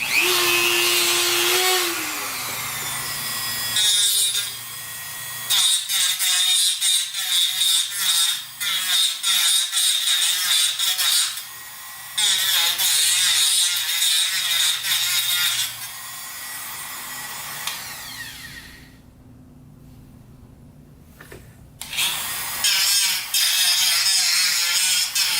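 A power tool grinds and sands the ground wire on a Honda CR250 dirt bike that sat outside for years, running in several bursts of a few seconds with brief pauses in between, close and loud.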